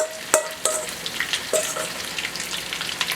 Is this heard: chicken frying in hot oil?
yes